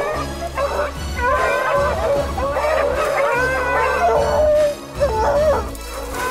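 Hunting dogs bay on a mountain lion's track in a canyon below an oak-covered slope. Several dogs give loud, continuous overlapping baying and howling calls at close to middle distance, with no talk over them.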